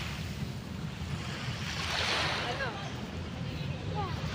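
Waves wash onto Dolomites Beach in a soft, rolling surge that swells and recedes, with wind rumbling against the microphone.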